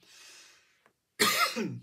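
A single harsh, close cough bursts out after a faint breathy hiss and a brief pause.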